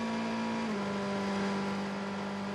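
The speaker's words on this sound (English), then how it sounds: "listen to Roberto Gonzalez in the 38 Jota Sport car coming round to Blanchimont" The Jota Sport No. 38 endurance race car rounds Blanchimont at Spa-Francorchamps, its engine a loud, continuous in-car drone whose pitch steps down slightly early on, then holds steady under wind and road noise.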